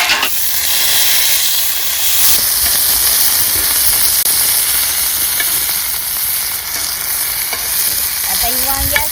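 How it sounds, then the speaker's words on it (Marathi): Eggplant frying in plenty of oil on a wood-fired stove for bharit, making a loud, close, constant hissing sizzle that fills the whole span, with a few brief utensil clicks near the end. "आता ही वांग्याची भाजायची चांगली तेलात."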